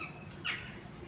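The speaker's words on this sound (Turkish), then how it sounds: "Ha bak karga geldi." A crow gives a single short caw amid a low background hum, outdoors where pigeons are being fed in Edirne.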